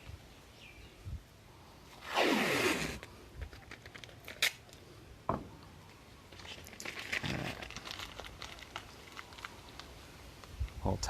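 Tape is torn and crumpled into a ball nearby, with a loud crinkling surge lasting under a second, then scattered rustles, taps and softer crinkles against a quiet background.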